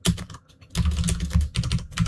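Rapid typing on a computer keyboard, close and crisp, in two bursts of dense clacking separated by a brief pause.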